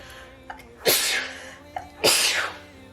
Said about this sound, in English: these tears are from that sneeze